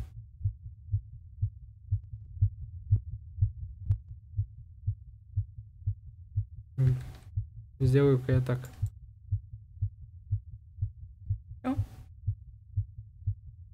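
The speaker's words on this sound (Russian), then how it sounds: "Понятно, там серьезное сердцебиение." A steady, low heartbeat thumps on throughout a scene in the visual novel Everlasting Summer, with even pulses at a moderate pace, and a voice speaks briefly over it partway through.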